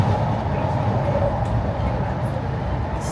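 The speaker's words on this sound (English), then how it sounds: "This train ride takes a long time." Steady low rumble of a train interior on a slow airport-to-downtown Beijing ride, continuous rolling noise and hum throughout with faint murmur of voices underneath.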